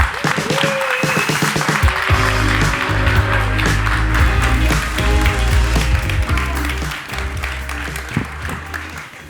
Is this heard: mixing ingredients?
no